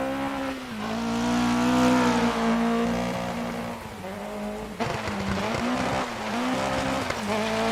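A rally car in a rally video game, suffering a wheel wobble, pulls away at a special stage start with a loud revving engine climbing through gears and tires squealing and skidding on the surface, unbroken with no voices.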